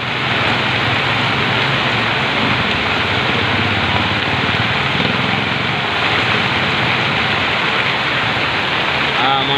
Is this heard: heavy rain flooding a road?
yes